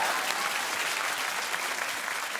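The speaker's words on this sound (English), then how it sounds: "You can clap for that, or I'll be the only one." A television talk show's studio audience claps steadily, dense and full throughout, with no talk over it.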